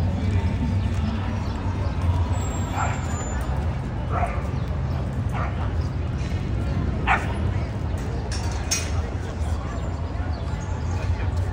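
Indoor-kept dogs, anxious to get inside, bark intermittently, several sharp yaps and woofs spaced across the stretch over a steady low rumble of background noise.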